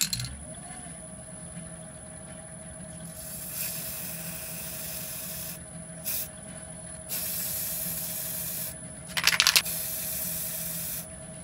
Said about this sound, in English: Using the white paint, I'm going to spray a thick layer ring on top of the white inside the box.